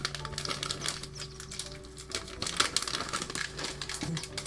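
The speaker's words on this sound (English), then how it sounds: "That's the sound of cat treats." Cat treats shaken in the video game Secrets of Grindea give a quiet, quick rattle of small dry clicks in irregular bursts.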